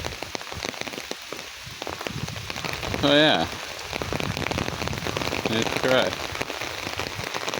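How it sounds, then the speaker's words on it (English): Steady heavy rain patters on surfaces in the woods throughout, with a person speaking briefly over the downpour. "It's pouring rain."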